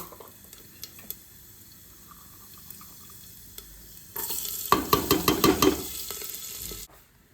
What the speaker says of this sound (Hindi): तो इसका तड़का लगाऊंगी, सिर्फ जीरा, हींग, लहसुन और ये बैटर डालूंगी।